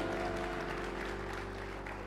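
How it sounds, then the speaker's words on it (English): A church congregation claps and applauds during a Mother's Day service, a dense, continuous round of applause with a low hum and murmuring underneath, steady and fairly loud. "Don't you stop clapping because his wife is sitting right next to him."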